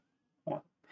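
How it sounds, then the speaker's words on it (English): A cat gives a short, faint meow, and a second cry starts at the very end. The rest of the moment is near silence. "There's a cat."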